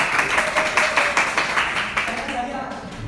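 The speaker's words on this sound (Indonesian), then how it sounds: "Oke, beri tepuk tangan kepada Mas Zen." Clapping from students in a classroom at an Islamic boarding school madrasa in Malang, a loose, rhythmic patter of hands that fades toward the end, with voices mixed in.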